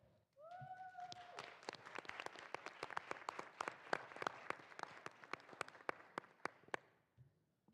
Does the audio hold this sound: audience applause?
yes